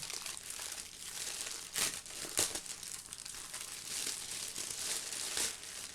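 Packaging crinkles and crumples continuously while computer parts are unboxed, with a few sharper rustling crackles standing out in close, steady noise.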